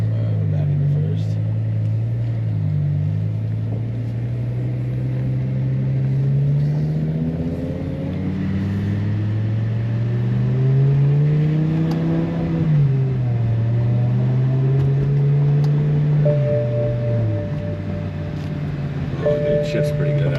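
BMW M6 with the S85 V10 accelerating while driving, a loud interior engine drone rising and falling through the gears, with someone talking over it.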